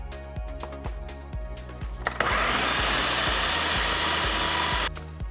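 A food processor whirs in short pulses and then a sustained run while blending deviled egg filling, a loud close motor whine over a background of rhythmic knocking.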